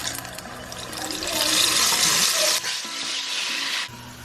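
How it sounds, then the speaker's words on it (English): Plantain frying in hot oil gives a steady, close sizzle that swells and then dies back, continuing alone without talk. "I'm going to fry my plantain now"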